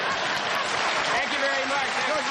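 A studio audience at a late-night talk show applauding, a dense, steady wash of clapping filling the whole short stretch at even loudness.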